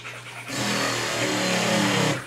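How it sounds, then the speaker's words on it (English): Pump of a Reef Vacuum RV-20 cleaning machine kicking on, a steady mechanical rattle and hum that starts abruptly and runs loud and close for about two seconds. "On-demand pump, so you hear the pump rattle up a little bit right there"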